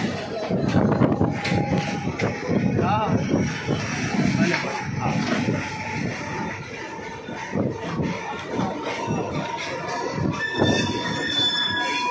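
A train on the Ghatkopar to VT route rumbles and clatters along the tracks near Lokmanya Tilak Terminus in Mumbai, with squealing wheels and metallic screeches, while people talk nearby under the steady rolling noise.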